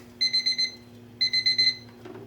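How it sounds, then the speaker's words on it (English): A kitchen timer beeping on the stove during pressure canning of mushrooms: two bursts of rapid, shrill electronic beeps, about four each, separated by a short pause, clear and fairly close. "And there goes the timer."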